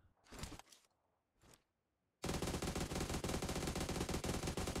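Loud, continuous automatic gunfire from an M416 and AUG in PUBG Mobile begins after two seconds of faint shots and rustling, then runs steadily without a pause to the end.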